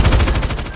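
A rapid burst of film gunfire, several loud sharp shots in quick succession, close and punchy.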